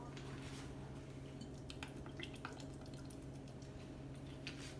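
Worcestershire sauce poured into a blender or food processor while making an oxtail dish, heard as faint, scattered drips and small trickles over a steady low room hum.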